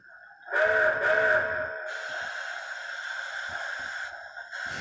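A model railroad sound decoder plays a New York Central 2-8-2 steam locomotive, H10a class: a loud chime whistle sounds in two close blasts, then a steady hissing, chuffing rumble carries on alone.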